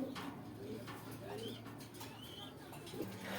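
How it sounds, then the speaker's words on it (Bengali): A pair of racer pigeons coo softly at close range, low repeated murmurs over a steady background hum at a pigeon sale in Gazipur, Dhaka, with faint chirps mixed in. "এখানে দেখতে পাচ্ছেন এক জোড়া রেসার কবুতর আছে।"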